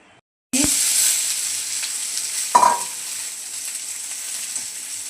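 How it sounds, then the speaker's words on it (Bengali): Potatoes frying in a small amount of oil in a wok, a steady bright sizzle that starts abruptly and holds close and loud, with one brief clatter of stirring partway through. "আবারও কড়াইতে অল্প পরিমাণ তেল দিয়ে দেব আলু ভাজার জন্য"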